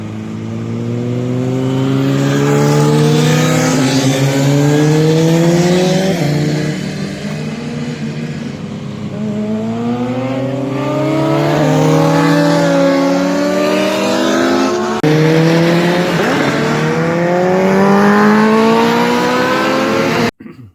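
A motorcycle ridden hard on a race track at a trackday on the Melbourne Loop, its engine screaming loud and close, rising in pitch through each gear and dropping sharply at every shift, ending in a sudden cut-off.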